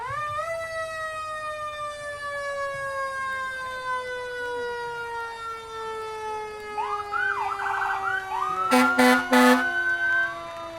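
A fire department truck siren wails in a long, slowly falling tone at a Fourth of July parade, loud and close, with a few short horn blasts near the end.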